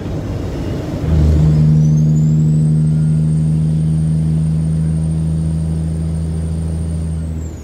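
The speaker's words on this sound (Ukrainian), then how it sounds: "Але мотор зараз повинен бути гучніший, а він ричить так аж." A truck engine growls while driving in traffic, a steady low drone that rises about a second in and holds loud and even, with a thin high whine above it.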